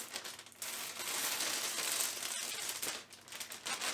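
Crinkly plastic rustling and rubbing as the zip on a vacuum storage bag is pressed shut, a fairly steady close-up texture lasting several seconds with brief lulls.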